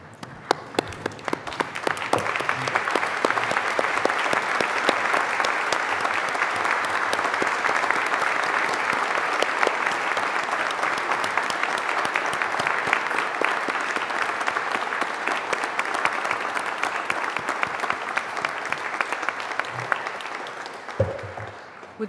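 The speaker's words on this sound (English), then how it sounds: "in a final round of applause, let's congratulate those who graduated today." Sustained, loud audience applause at a university graduation ceremony, dense steady clapping from a large crowd continuing for about twenty seconds before tapering off.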